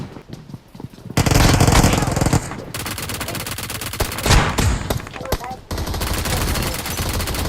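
Gunfire in the BGMI (PUBG) mobile battle royale game comes as loud rapid automatic bursts, several sustained volleys close up with brief gaps between them.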